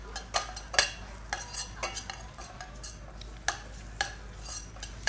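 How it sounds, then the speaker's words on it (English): Spices with turmeric are sautéed in a pan, the sound mostly sharp utensil taps and scrapes against the pan at an irregular rhythm over a faint low sizzle. "So we need to saute for a minute to just get rid of the rawness of spices."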